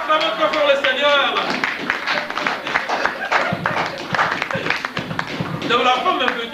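A church congregation claps and cheers in praise during a lively worship service, with dense, rhythmic hand claps and voices calling out over sustained singing or speech.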